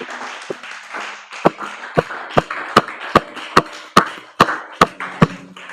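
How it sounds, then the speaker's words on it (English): A church congregation clapping an offering to the Lord: sharp, evenly spaced claps in a steady rhythm, starting after a soft murmur and continuing regularly to the end. "Shall we clap offering to the Lord Jesus Christ?"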